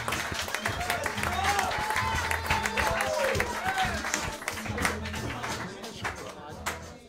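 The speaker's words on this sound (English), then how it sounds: "Clap it up for Chrissie Mayr." A comedy roast show audience claps and cheers as a comedian from Long Island, New York comes to the stage, steady applause under a host's voice with loud bass music throughout.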